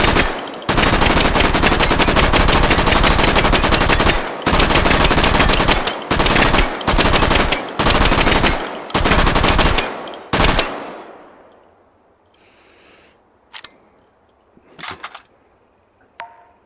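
Fully automatic open-bolt gunfire in Hot Dogs Horseshoes & Hand Grenades, loud sustained bursts of rapid shots broken by brief pauses over about ten seconds, followed by a decaying tail and a few scattered quieter shots.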